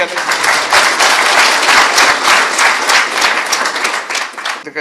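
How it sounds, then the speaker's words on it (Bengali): Loud, dense applause from a large crowd at a public gathering, sustained and steady throughout before cutting off abruptly at the end. "জোরে হাততালি"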